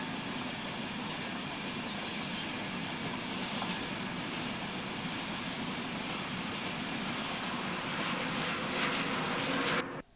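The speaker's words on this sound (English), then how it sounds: "Now I observe a Class 91 electric set coming up from flyover East Junction" A Class 91 electric train runs on the line near Newark, a steady broad rushing roar with faint tonal whine that holds for about ten seconds before cutting off abruptly.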